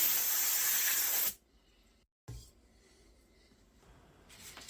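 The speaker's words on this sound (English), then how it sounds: "Just put some 800 grit around a kind of a rigid foam block there, just kind of going in one direction, just trying to knock down those high spots" Hand sanding nitro lacquer clear coat on a guitar body with 800 grit sandpaper wrapped on a rigid foam block, a loud steady scratchy hiss that stops abruptly, then quiet handling noise.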